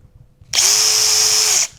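A small power drill bores a hole through wood with a backing board underneath, a bright high whine lasting about a second before stopping, loud and close with no talk.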